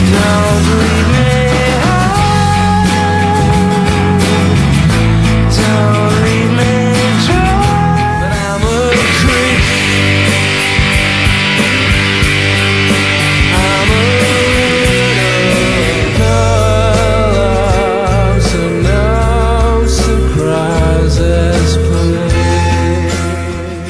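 An old song plays from a recording, loud full-band rock with dense guitars, drums and vocals continuing without a break.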